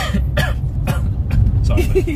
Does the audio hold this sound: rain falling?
no